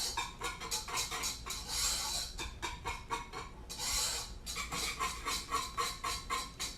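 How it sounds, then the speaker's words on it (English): A spoon scraping the bottom of a pan while stirring a thickening sauce on the stove, a quick rhythmic series of close rasping strokes, repeated steadily with a couple of longer drags. "Sorry for all the scraping noise"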